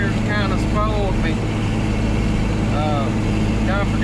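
A 4650 tractor engine drones steadily and loudly during field tillage, a constant low rumble filling the whole stretch while a voice talks over it.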